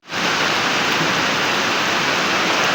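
Steady rain pours down on a house, a dense, loud and continuous wash of noise that holds at the same level throughout with no talking.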